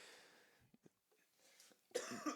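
A couple of short, dry coughs, then a harsher, louder burst of coughing with throat clearing near the end, close and alone without talk.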